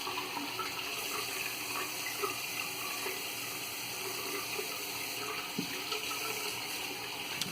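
Tap water runs steadily into a sink while a Semogue 830 shaving brush is rinsed, a continuous close splashing rush with small irregular clinks and no talking.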